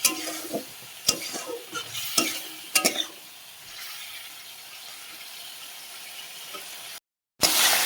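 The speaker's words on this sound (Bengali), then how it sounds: "আলুগুলো ভালো করে কষিয়ে নিতে হবে।" Potatoes are sautéed in spice masala in a pan, with rapid stirring scrapes and spatula clatter over a soft sizzle, close up, loud at first, then settling into a quieter sizzle before a brief dropout.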